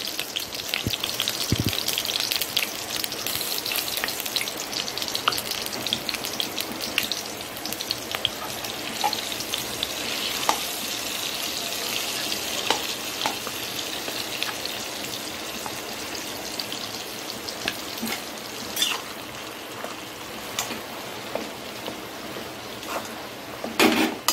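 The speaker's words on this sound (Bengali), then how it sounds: "এই বাটা ডাল এর মধ্যে দিয়ে দিচ্ছি, ঘিয়ের মধ্যে" Ground chickpea lentil paste fries in hot ghee, giving a continuous close crackling sizzle with scattered sharp pops and a few faint stirring scrapes, no voices.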